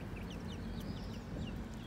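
Farm chickens on a small poultry holding clucking and chirping softly together, a continuous low murmur of quiet calls at close range.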